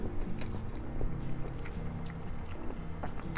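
Biting and chewing spicy black-cup instant noodles, with soft close chews and slurpy mouth sounds repeating steadily over a low background hum.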